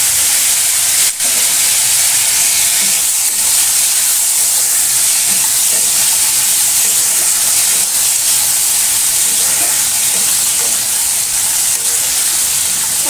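Vegetables sizzle in hot oil tempered with five whole spices, a loud, steady, close hiss of frying that goes on throughout, with only a small clatter near the start and no talking.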